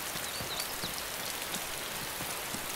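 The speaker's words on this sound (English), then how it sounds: "the server is perpetually raining." Steady rain falls in a video game server's weather, a faint, even hiss of drops pattering across a surface, with no voices.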